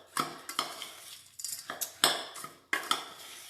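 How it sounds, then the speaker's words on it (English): Biscuit crumbs being mixed into butter in a bowl with a utensil, giving a series of close, distinct scraping clinks and crunchy strokes at an uneven rhythm with short pauses between them. "let's put the biscuits in with the butter and just mix those up"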